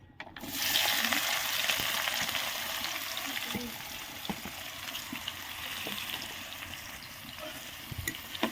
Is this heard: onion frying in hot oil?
yes